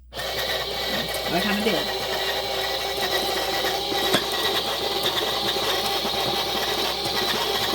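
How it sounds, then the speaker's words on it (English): A small DC-motor grain mill grinds oats fed from its hopper, giving a steady, loud whirring drone with a grinding rasp that holds throughout, and brief speech over it. "we're gonna pour this in the hopper, and we're gonna turn it on. And this does have a DC motor"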